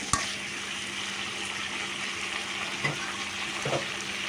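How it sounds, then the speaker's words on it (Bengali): Tomatoes fry in a pan, a continuous moderate sizzle broken by a few soft knocks from stirring. "এখন টমেটোগুলো দিয়ে আর একটু কষাই নেব যেন টমেটোগুলো গলে গলে যায়"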